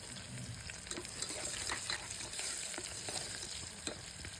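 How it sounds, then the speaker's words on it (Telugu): Green chillies and onions frying in oil inside a pressure cooker, a steady bright sizzle with crackling pops and occasional stirring scrapes, close and continuous. "ముందుగా కుక్కర్లో ఆయిల్ పోసుకొని పచ్చిమిర్చి, ఆనియన్స్ కొంచెం రెడ్గా వేయించుకోవాలి."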